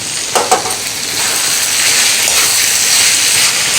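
Ginger garlic paste sizzles loudly in a pan with browned onions and tomatoes for an egg biryani, a steady hiss of frying with a few brief stirring scrapes at the start.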